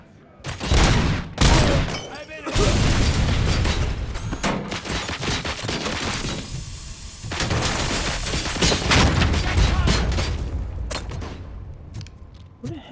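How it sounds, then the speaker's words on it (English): Dense gunfire crackles from behind in the Robocop: Rogue City video game, loud overlapping bursts and heavy booms in waves that ease into a steadier volley, then thin out near the end. "Who the heck is shooting from behind?"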